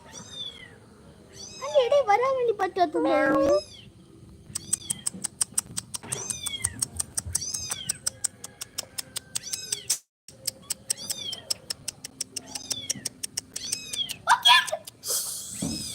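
A white cat meows loudly in a long drawn-out wail near the start, followed by a rapid series of short, high mews from kittens that repeat steadily throughout, with a voice talking in the background.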